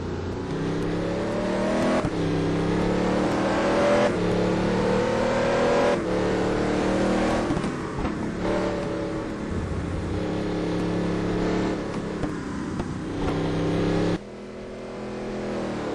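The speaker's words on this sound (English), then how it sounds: "And Riccardo Conti leaving the pits here, as I predicted." A touring race car pulls out of the pits at a Curitiba circuit, its engine climbing through repeated gear changes in a loud, rising, stepped whine, with commentary running over it.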